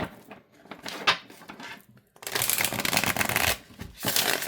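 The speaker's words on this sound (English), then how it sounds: "And it shuffles great." Tarot cards are shuffled up close, first in a few light riffles and taps, then in two longer, louder bursts of riffling.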